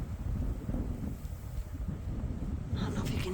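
Strong wind in a blizzard buffets the microphone with a steady, loud low roar and gusting rumble that sweeps on without a break, outdoors near horse stables in blowing snow.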